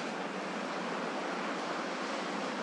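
Rough ocean surf roars in a dense, continuous wash of broadband noise, steady and loud with no voices.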